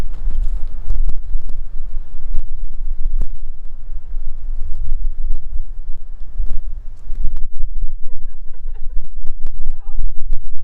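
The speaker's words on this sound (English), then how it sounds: "It's a windy day in Oklahoma." Wind buffets the microphone in low rumbling gusts throughout in an Oklahoma garden, with scattered knocks and a short stretch of chirping birds near the end.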